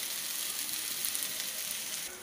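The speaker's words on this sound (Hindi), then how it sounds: "कटे हुए केला डाल देंगे। तो भाई देख सकते हैं केला डल गई है और मीडियम फ्लेम पे इसको फ्राई कर रही है।" Chopped banana frying in a pan over a medium flame gives a steady, moderately quiet sizzle with fine crackling spread evenly throughout.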